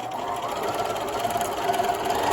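A sewing machine stitches a quarter-inch seam on a fabric face mask, a steady continuous mechanical whir running evenly from start to finish, close up and without speech.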